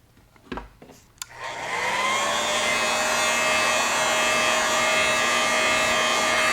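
After a few soft clicks and knocks, a heat dryer switches on and blows steadily with a loud, constant whine and whoosh while setting airbrushed paint on a golden shiner fishing lure; close up, no voices.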